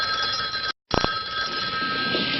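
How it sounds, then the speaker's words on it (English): A telephone rings loudly and steadily nearby, a continuous bell tone broken by one short gap before it resumes, with no voices over it. "Your phone's ringing."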